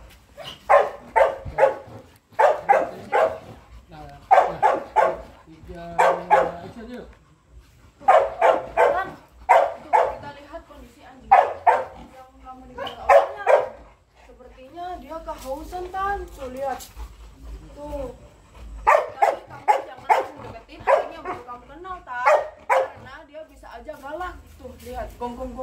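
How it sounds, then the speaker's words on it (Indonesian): A pitbull barks in repeated bursts throughout, sharp and fairly close, with people talking over and between the barks. "Gonggong mulu"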